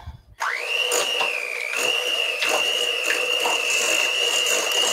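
An electric mixer whirs steadily close up as it beats room-temperature cream cheese for an Italian cream cheese and ricotta cheesecake, its motor whine holding an even pitch with light rattles and knocks of the beaters against the bowl.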